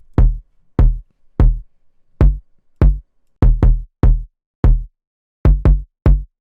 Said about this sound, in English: I also layered this kick with the 808.